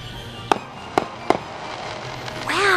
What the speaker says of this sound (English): So the people that live across the street are having fireworks.